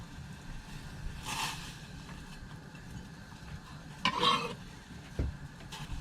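A wooden spoon stirs onion, carrots and potatoes cooking in a pan on a narrowboat stove, giving a low steady sizzle with a few brief scraping clatters near the end.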